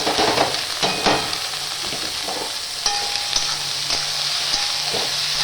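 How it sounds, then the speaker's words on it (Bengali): Vegetables with green chili fry in a pan next to leftover rice, giving a continuous loud sizzle broken by scattered clicks and scrapes of stirring, with no voices. "সবজিগুলোকে ভালো করে ভাজবো"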